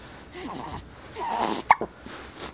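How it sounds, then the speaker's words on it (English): A single sharp hiccup stands out against quiet room sound, followed by a couple of softer catches, with faint indistinct voices earlier. "That's how the hiccups go."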